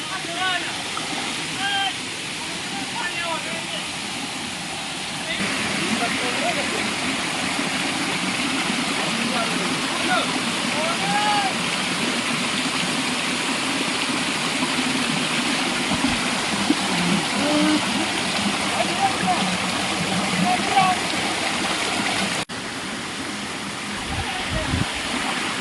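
A forest stream at Jata Shankar in the Girnar forest rushes in a steady, unbroken wash of water, with faint voices of people bathing mixed in under it.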